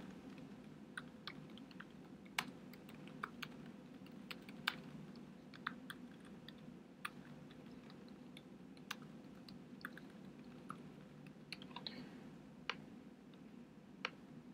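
Typing on a computer keyboard while setting up a website homepage, heard as scattered faint clicks and keystrokes spread over a steady low background hum, with no talking.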